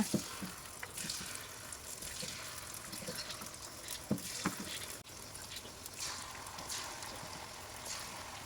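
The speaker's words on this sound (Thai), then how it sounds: "ใส่มันฝรั่งชุบแป้งทอดลงไปเลย ลงไปทอดในกระทะเลยนะคะ" Battered potato french fries fry in hot oil in a pan, giving a steady, faint, dense sizzle with scattered crackles and pops throughout.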